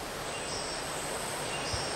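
Insect in a Sumatran forest giving a continuous noisy, hissing buzz that fills the air evenly, fairly faint and steady with no pauses.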